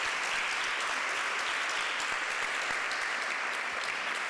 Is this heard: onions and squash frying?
no